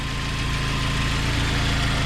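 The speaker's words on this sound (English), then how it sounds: "Nothing out of the ordinary here with this idle" A 200,000-mile Saab 9-5 engine idles steadily up close, a low even rumble with a regular pulsing throb and no other sounds.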